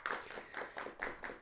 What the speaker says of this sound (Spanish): agradezcamos de nuevo con un aplauso al profesor Mario